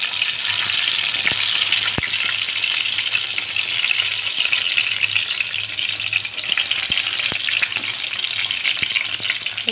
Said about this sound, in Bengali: হ্যাঁ, এই তেলের মধ্যে বেগুন দিলাম